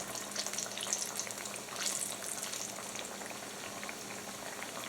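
Sweet potato hand pies frying in hot oil, a dense, bubbling crackle that swells slightly as pieces go in, steady and close, without any talking.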